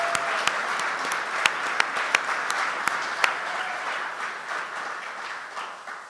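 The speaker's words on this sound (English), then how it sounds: "I think a round of applause is in order for the women's basketball team in the year they had." Audience applause at a university basketball coach introduction, a steady crowd of clapping with a few sharp close claps standing out early before it gradually fades.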